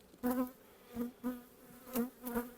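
Honey bees buzzing around an opened hive during a brood-frame inspection, the hum rising in several short, close swells about half a second apart.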